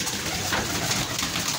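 Fifty pairs of pigeons held for sale fill the air with dense, overlapping cooing, a steady close-up murmur of low calls with no pauses.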